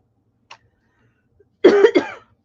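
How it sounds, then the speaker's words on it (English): A man coughs, a faint tick early on followed by one loud, close burst of two harsh coughs in quick succession, then silence. "Ooh, why am I coughing?"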